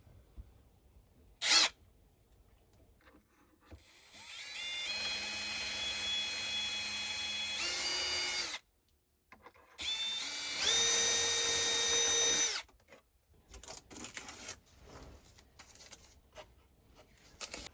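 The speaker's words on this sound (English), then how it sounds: "and then we'll just drill the holes." Power drill boring holes for drawer pulls, two separate bursts of high whining spin a few seconds each, close and fairly loud, with quiet handling noises and a sharp tap in between.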